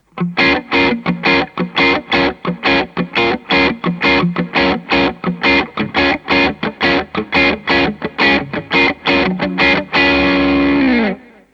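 Electric guitar through an analog-modded brown mod Tube Screamer stacked with a Nobles overdrive chugs in a fast run of palm-muted distorted hits, close and loud, ending on one sustained ringing chord.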